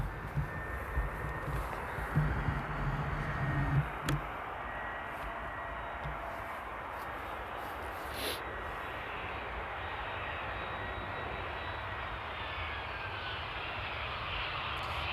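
Airplane arriving at Amsterdam airport in rain, a long steady engine roar that swells early and then holds as a broad, even drone, distant and fairly faint.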